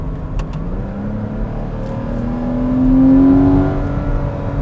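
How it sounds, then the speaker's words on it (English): Porsche 981 Cayman with factory sport exhaust, heard from inside the cabin: a smooth, sonorous engine note that rises in pitch and swells louder as the car accelerates, then eases back to a steady drone. "sonorous exhaust note"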